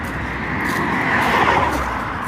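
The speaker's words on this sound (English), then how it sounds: "If you can hear us at all above the sound of the fucking cars." Traffic on a street in the small town of Alnwick, with cars rushing past nearby in a steady whooshing swell that peaks mid-clip. It is fairly loud and there is no talk over it.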